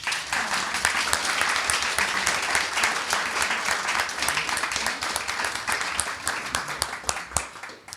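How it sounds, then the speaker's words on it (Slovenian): Audience applause at an event presenting a Braille music-notation handbook, a dense, even wash of clapping from a seated crowd that holds steady throughout with no voices on top. "predlagam, da njegove glasbene uspehe nagradimo z enim aplavzom"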